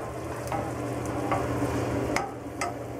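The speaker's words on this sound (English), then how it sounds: "we're gonna add the pasta and the shrimp that we cooked earlier" Pasta and cooked shrimp being stirred into a sauce in a pan, with a soft steady sizzle and a few sharp scrapes and clinks of a utensil against the pan.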